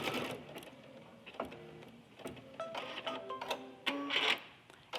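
A home embroidery machine stitches a baby bear lovey, its needle whirring in quick rhythmic bursts with brief pauses and tonal motor whines, close and fairly quiet.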